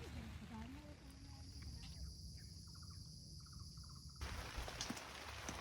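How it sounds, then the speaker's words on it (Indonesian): Light drizzle falls steadily around a tent on a hillside camp at Bukit Jabal, Gunung Malang, a soft continuous hiss with crickets chirping faintly and a brief rise in the rain near the end. "Hujan gerimis tipis-tipis."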